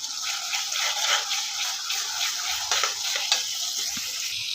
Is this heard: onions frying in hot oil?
yes